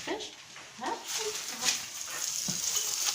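Dough frying in hot oil in a pan gives a steady close sizzle throughout, with a voice talking over it and a few scraping touches.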